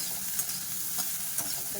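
Soybean chunks frying in a pan give a continuous, even sizzle with a few soft stirring scrapes over it.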